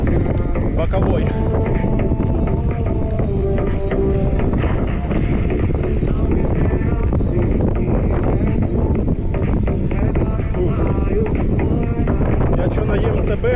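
Steady, loud crosswind buffeting the microphone while riding an e-MTB along a spring coastal route in Crimea, a continuous low rumbling roar throughout with a voice talking over it.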